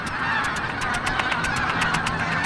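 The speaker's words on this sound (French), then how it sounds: "Ces oies grises, que l'on appelle aussi oies des moissons, arrivent de Sibérie" A flock of bean geese at Junan reservoir, South Korea, honks in a steady run of repeated calls, many birds overlapping at moderate distance.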